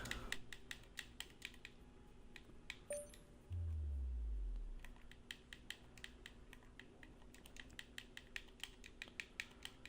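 Someone types a name on a computer keyboard, quick, crisp key clicks coming in short bursts, with a brief low swooping sound near the middle. The whole thing is quiet and close.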